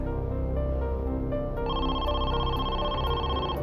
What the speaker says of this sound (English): At 9 p.m., Donnell's sister received a phone call.